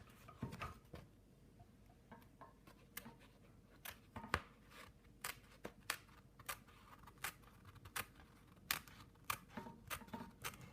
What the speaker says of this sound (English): we are going to cut the stabilizer